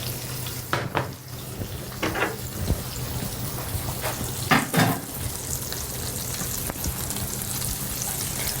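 Food fries in hot oil with a steady, close crackling sizzle that continues throughout, with occasional louder spits and stirring bursts.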